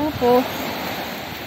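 Waves breaking at Stanley Beach in Hong Kong under strong wind make a steady, loud broadband roar for the whole stretch, with a brief voice near the start.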